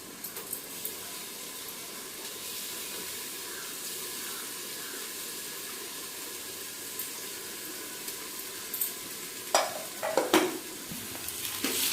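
Ginger garlic paste and spices for a mushroom biryani frying in hot oil, a steady sizzle with occasional scraping stirs that grow louder and busier near the end.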